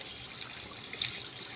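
Tap water runs steadily into a sink for washing the face, a close, even hiss and trickle with no voices.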